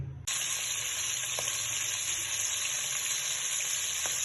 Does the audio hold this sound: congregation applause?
no